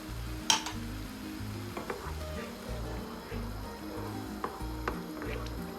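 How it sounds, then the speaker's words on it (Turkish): Kapya red peppers sautéing in olive oil in a pan for an Antep-style breakfast sauce, a steady close sizzle with stirring scrapes and a few utensil clinks, alone without talk. "Biraz da kapya biberle kavuracağım. Bu aşamada üzerine bir su bardağı zeytinyağı ilavesi yapacağım."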